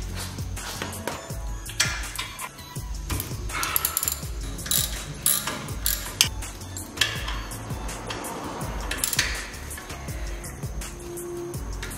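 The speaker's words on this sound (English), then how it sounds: "you're going to take a 7mm hex key, put them in where that plug came out to start to undo the caliper" A 7mm hex key works loose the brake caliper bolts on a 1995 Saab 9000, giving close metallic ratcheting clicks, knocks and rattles in uneven bursts with no one talking.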